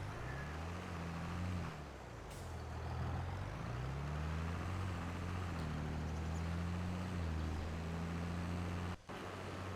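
A tractor drives in Farming Simulator 22 on the Ohio Richlands map. It makes a steady, loud, close engine drone that holds throughout, with the pitch rising and falling slightly, and no talk.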